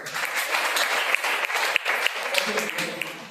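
A church congregation at a Sunday service claps loudly and steadily throughout, a dense wash of many hands with a few sharper individual claps standing out near the end.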